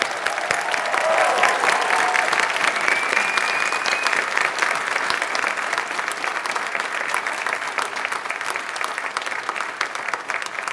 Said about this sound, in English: And one last applause for the class of 2026.